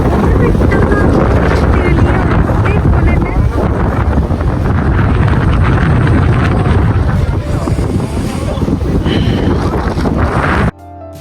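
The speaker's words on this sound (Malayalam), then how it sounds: "ഈ ഒരു സമയമായപ്പോഴത്തേന് കാറ്റിൻ്റെ ശക്തി ഭയങ്കരമായിരുന്നു" Strong wind on a hilltop at Kakkadampoyil batters the microphone in a loud, continuous roar with gusting rumble, running unbroken for about eleven seconds before cutting off abruptly.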